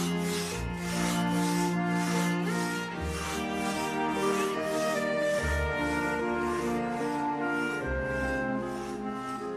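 Wood being sawn by hand in cold weather, a steady run of rhythmic rasping strokes close by, loud and continuous with no talk.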